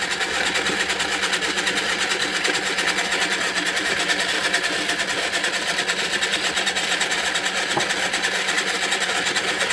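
An electric paint-pour spinner motor running at high speed, a constant loud whirring drone with a fast mechanical flutter throughout and no pauses.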